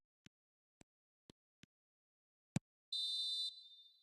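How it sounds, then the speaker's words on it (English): A referee's final whistle in the football video game PES 2025 comes as a single bright, steady blast that fades briefly at the end, following a few sparse clicks in otherwise quiet game audio. "Added time is up, and there goes the whistle"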